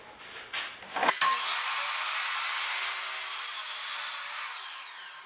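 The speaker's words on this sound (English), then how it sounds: "set the miter at 45 to the right, and we're just going to cut off a small amount." Miter saw set at a 45-degree miter slicing a small amount off crown moulding for cabinets: a short motor spin-up, then a loud, steady whining cut lasting several seconds that tapers off at the end, with no talking.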